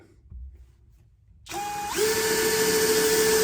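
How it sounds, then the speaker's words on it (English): After a quiet moment a cordless drill whirs to life, briefly at low speed, then ramping up to a steady high-pitched whine. "It's more than just a drill for drilling holes."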